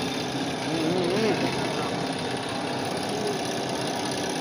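A tea leaf grinding machine runs with a steady mechanical drone and a rough, knocking vibration, a continuous moderate roar without pauses.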